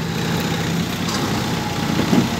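A Kubota MU 5502 50HP tractor engine runs at a steady, quiet low idle, a smooth continuous rumble with no speech over it.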